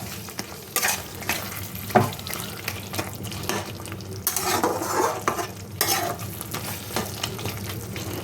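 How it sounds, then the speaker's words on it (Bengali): Pointed gourd and potato pieces frying in oil while being stirred, a steady sizzle with repeated scraping strokes of a spatula against the pan, fairly close, with no talking. "দেখুন কেমন তেল ছাড়ছে, কালার এসছে দেখুন, তার মানে এটা ভাজা হয়ে গেছে।"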